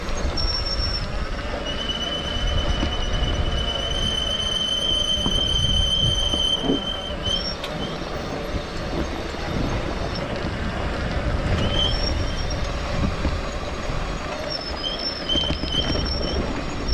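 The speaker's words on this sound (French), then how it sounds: "Avec mes freins qui couinent." A motorcycle's brakes squeal in thin, high, intermittent whines as it coasts downhill with the engine off on the Route des Grandes Alpes, over a constant low rumble of road and wind.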